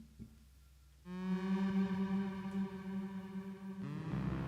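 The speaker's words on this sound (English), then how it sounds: "And then the Solar 42 sounds like this." A Solar 42 synthesizer drone enters after a second of quiet and holds steady, a sustained stack of harmonics with a strong low fundamental, then thins and shifts in the final half second. No one speaks.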